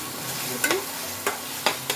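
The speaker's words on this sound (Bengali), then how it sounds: "পুরো মশলাটা আমার ভাজা হয়ে গেছে।" Spice paste for aloo chingri dum fries in a pan with a steady sizzle, and a utensil stirs it with a few distinct scraping strokes. The sound is close and moderately loud, and no one speaks.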